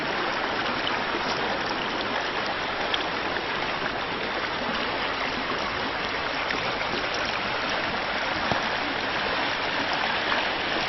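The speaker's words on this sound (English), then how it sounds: "the creek is running very deep here" A deep, fast-running creek with frozen edges in winter cold, giving a continuous broadband rush and gurgle of flowing water, steady and fairly close, with no voices over it.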